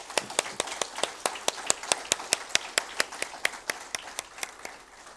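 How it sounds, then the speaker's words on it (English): Slow, evenly spaced claps from a small audience at an International Day of Persons with Disabilities event, each crisp clap distinct and fairly close, fading slightly at the end with no talking. "One round of applause for him, please."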